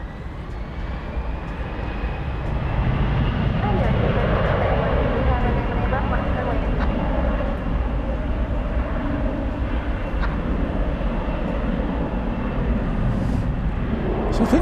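A Qantas airliner at DFW airport at night, its broad steady jet engine roar rising after the first seconds and holding loud and continuous to the end, with no talk over it.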